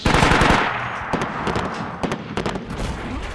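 The ZDZ 96 vehicle weapon fires in the war strategy video game Men of War Assault Squad 2, a loud opening blast followed by a series of sharp, rapid shots and echoing reports.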